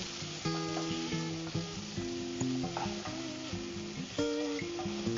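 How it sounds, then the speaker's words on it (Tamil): Tomatoes sauté in a pan for sambar-style cooking, a steady soft sizzle with occasional stirring scrapes, mostly buried under loud melodic background music. "தக்காளி வதங்கிடுச்சு."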